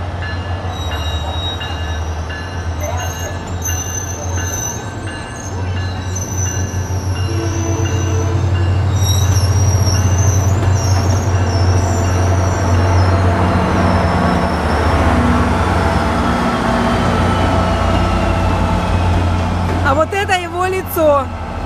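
A train rumbles past close by, wheels clattering and squealing, with a rising roar that fades before a sharp screech near the end.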